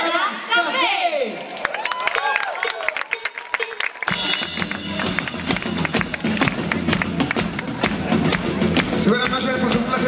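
A gala audience at the Galardón Vizcaya 2015 awards night gives a burst of applause for a band. Dense clapping and some cheering swell in suddenly after a few seconds and continue loudly over music.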